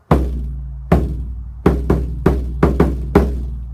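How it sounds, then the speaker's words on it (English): A tightly wrapped homemade wooden box drum struck seven times, each hit a punchy knock with a deep, resonant low boom, played in an uneven rhythm, loud and close. "here's what a good sounding drum sounds like, nice and tight, wrapped really tight."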